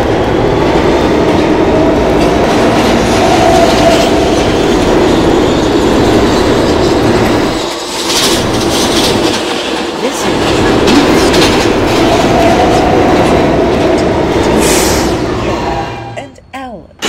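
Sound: R160B subway train running on the tracks

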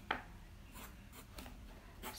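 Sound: pencil sketching a circle on paper

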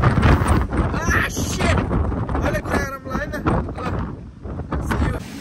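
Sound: wind blowing outside

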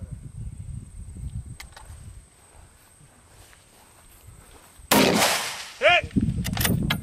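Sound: gunshots at long distance shooting range

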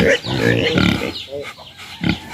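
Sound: boar pig grunting

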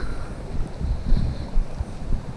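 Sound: wind

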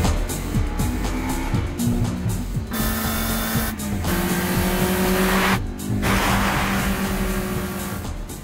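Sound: Eight Six turbo car engine accelerating, anime

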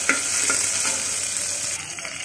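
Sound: panch phoron and green chili frying in oil

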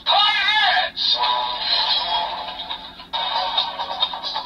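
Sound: Kamen Rider Gotchard Ride Chemy card toy sound, claws clashing

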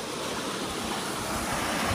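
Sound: water rushing out of removed beaver dam

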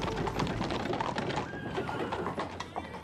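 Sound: horses, mares and foals, hooves clopping

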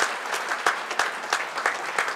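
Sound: audience applause for the mayor at a charity gala

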